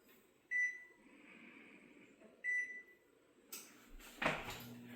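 An oven control panel gives two short, clear electronic beeps spaced about two seconds apart while being set to preheat, followed by a few clicks and knocks in a quiet kitchen.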